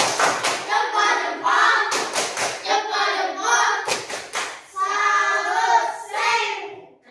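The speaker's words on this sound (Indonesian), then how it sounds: "Tepuk salut untuk kita semua." A classroom of students performing a rhythmic salute clap, loud and close, with patterned bursts of claps and slaps interleaved with group chanting voices in a set cadence.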